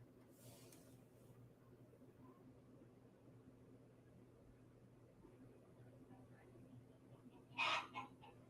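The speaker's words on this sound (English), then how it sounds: "Sometimes I swear the chickens want to get you a noise complaint." Chickens cluck faintly in the distance over a quiet background hum, with a louder burst of clucking near the end.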